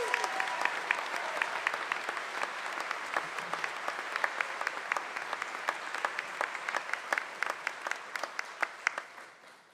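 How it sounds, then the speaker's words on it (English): A commencement crowd applauds associate degree recipients, with dense, sustained clapping from a large audience that gradually thins and fades toward the end, without talk. "Let's give our associate degree recipients one more round of applause."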